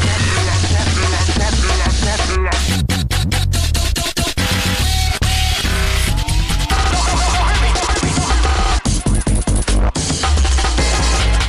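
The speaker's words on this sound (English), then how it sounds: "breakcore sounds a bit like this" Breakcore music built on a sped-up, chopped and mashed-up Amen break: frantic rapid-fire drum hits, heavy distorted bass and glitchy stutters, dense and loud throughout with no talking.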